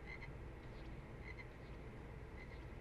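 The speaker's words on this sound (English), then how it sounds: "Because he sounds like a frog." A frog-like croaking character voice from the Dragon Ball Xenoverse 2 video game repeats at a steady rhythm, several croaks in a row over a quiet, noisy background.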